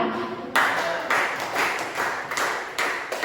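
Classroom applause for a student group during a chemistry lesson in Indonesia: a short rhythmic clapping in several bursts, fairly close, after a brief quiet start.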